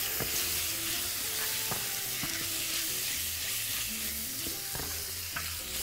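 Chicken pieces fry in a pan and get stirred, a continuous close sizzle with frequent utensil clicks and scrapes against the pan, steady and moderately loud.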